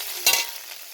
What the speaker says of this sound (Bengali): ঢ্যাঁড়সটা তুলে দিয়েছি আগে ভেজে নিই ভালো করে ঢ্যাঁড়সটা